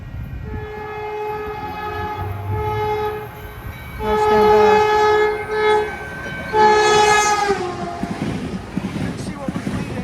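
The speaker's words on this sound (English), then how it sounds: "there goes Caltrain 316 leading and 315 trailing" Caltrain express with two locomotives skipping through Menlo Park station, its horn blowing in several loud sustained blasts while the train roars past close by; a person speaks briefly over it.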